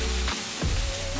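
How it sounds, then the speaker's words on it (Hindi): Chopped onion sizzles and fries in a hot pan on a home stove, a steady crackling hiss with a brief stir-like rustle partway through, close and alone. "अब तो प्याज भून रही हूँ"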